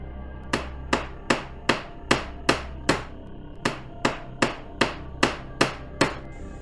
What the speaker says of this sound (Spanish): Martillazos se escuchaban hacia el fondo de la lavandería.